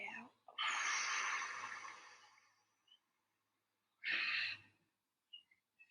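A slow, breathy exhale through the mouth during a guided healing breathing practice, a long soft whoosh lasting over a second, then a shorter second breath after a pause, close and quiet.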